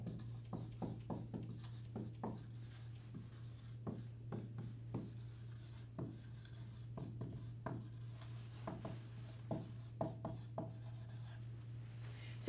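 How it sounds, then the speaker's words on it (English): A marker writing on a board, a series of short, soft squeaky strokes and taps at an irregular pace over a steady low hum, quiet and close, with no talking. "let's write a 3-part diagnosis for Danny with the stressor in mind on the board"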